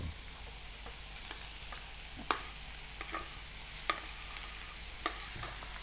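Boiled potatoes being stirred together with vegetables in a frying pan while making chop, with a low steady sizzle and scattered scraping clicks of the utensil against the pan.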